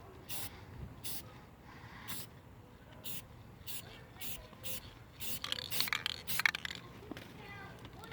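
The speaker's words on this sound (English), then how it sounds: "Oh, there's a little spray." Spray paint hissing onto a boat hull in repeated short bursts, about a dozen evenly spaced sprays, fairly faint with scraping and handling noises and occasional voices in the background.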